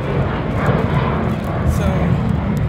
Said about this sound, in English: If you could hear the plane more than you could hear me